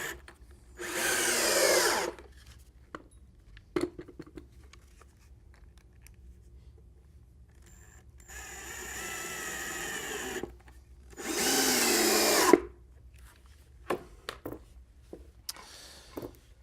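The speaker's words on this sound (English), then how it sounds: "And just keep adding screws about every 8 inches will be good enough." Power drill driving screws into wooden table boards while building a simple furniture table, in two long whirring bursts separated by quiet gaps with small knocks and handling sounds.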